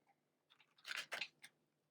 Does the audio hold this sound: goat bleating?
no